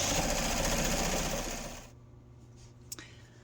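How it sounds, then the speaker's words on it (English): A sewing machine stitches through fabric and interfacing layers, a loud rapid whirring run that slows and stops partway, leaving quiet room tone with a faint click near the end. "just stitch through the interfacing through all of those layers at about 1/8 of an inch"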